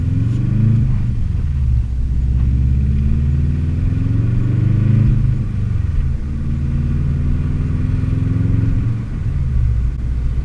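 Steady low Subaru WRX engine rumble with a deep exhaust burble, light revs rising and falling gently, close and continuous throughout.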